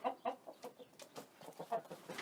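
Chickens on an off-grid food-forest homestead in Portugal cluck in a rapid, uneven series of short, close calls, heard alone without talk.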